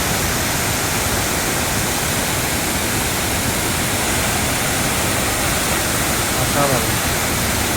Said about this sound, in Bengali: আমরা নিচে নেমে এই সুন্দর ওয়াটারফলসটা দেখছি